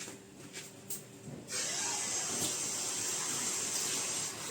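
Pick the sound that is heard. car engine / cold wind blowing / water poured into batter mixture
water poured into batter mixture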